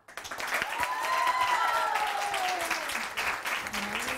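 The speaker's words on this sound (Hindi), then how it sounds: "तो अपने लिए तालियां" Studio audience applause on a Pakistani morning talk show, a steady wash of clapping lasting the whole stretch with a voice or tonal sound gliding faintly through it.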